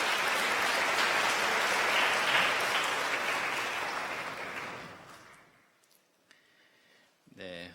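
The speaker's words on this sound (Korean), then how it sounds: "여러분들 박수 부탁드립니다." A church congregation at a Sunday service applauds, a full wash of clapping that holds steady and then fades away to near silence before a voice begins speaking.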